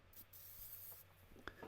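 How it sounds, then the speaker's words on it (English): Spray mount adhesive sprays from a can onto the back of paper in a woodturning workshop, a soft close hiss in short bursts with a light tap near the end. "Spray the back of the top one,"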